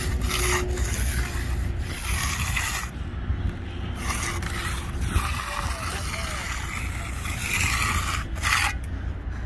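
A concrete edger tool scrapes along the edge of a freshly poured concrete porch, producing repeated gritty rubbing strokes, with someone talking over it at times.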